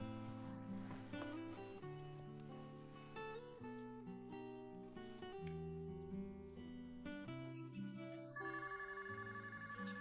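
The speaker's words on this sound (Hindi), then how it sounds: "फोन उठाओ।" A telephone ringtone plays in a melodic, repeating pattern of tones, moderately loud and continuous for about ten seconds, with no voices over it.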